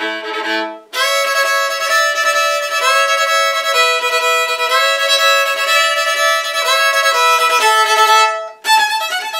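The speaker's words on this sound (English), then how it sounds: "we can sometimes play on two strings at once, which is another different way of making a sound on the violin." Violin played on two strings at once, sustained double-stop bow strokes ringing rich and close, one long note changing pitch several times before a brief break and a new chord, with no talking.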